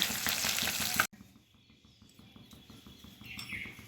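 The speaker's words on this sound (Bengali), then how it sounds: "শোল মাছগুলো ভাজা হয়ে গেছে, এবার তুলে নিচ্ছি।" Snakehead fish frying in hot oil give a loud, close sizzle for about a second, then it cuts off abruptly. Faint kitchen sounds and soft bird chirps follow.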